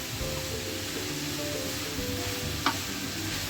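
Beetroot poriyal sizzles steadily in a pan while being stirred, a continuous close frying hiss with soft scraping and one brief sharper clink partway through.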